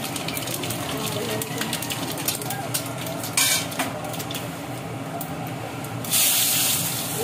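Potatoes with their skins frying in oil in a home kitchen, a steady loud hiss and sizzle with brief louder spattering bursts and clatters of the pan.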